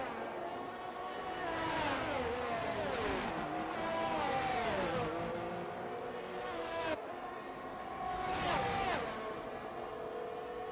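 Race cars lapping the Imola circuit in a racing video game, engines whining through rising and falling gear changes, several cars passing steadily for the whole stretch with a brief dip midway.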